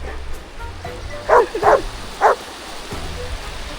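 A dog gives three short, sharp barks, two close together then one more, over a soft background patter.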